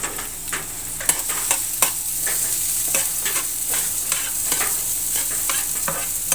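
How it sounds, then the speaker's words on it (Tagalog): Onion and garlic fry in a pan and are stirred repeatedly, a steady sizzle punctuated by regular sharp scrapes and taps of the spoon against the pan, close and clear with no talking. "Halo-haloin natin to para hindi masyado masunog yung sibuyas at bawang."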